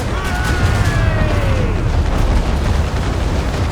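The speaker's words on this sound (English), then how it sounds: "Cannon!" Ship cannons firing during a naval battle in the video game Assassin's Creed Rogue, a dense, continuous rumble of booms and blasts under battle noise, with whistling shot streaking overhead.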